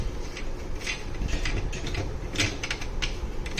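A plastic part of an Atomberg Efficio+ wall fan is twisted clockwise into place, producing a continuous close series of ratcheting clicks, scrapes and creaks.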